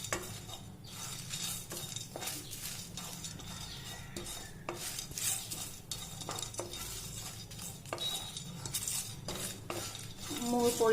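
Whole spices (cloves, cardamom and a small piece of cinnamon) frying on a low flame in a pan for banana blossom curry, with steady scraping and clinking of a metal spoon stirring against the pan over a soft sizzle.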